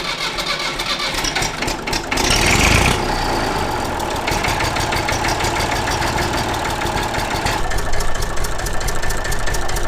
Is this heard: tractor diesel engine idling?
yes